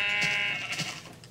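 Minecraft sheep bleat twice in quick succession, bright wavering cries close by, the second overlapping a steady high tone.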